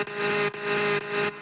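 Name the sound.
Toad's kart sound from video game Mario Kart 8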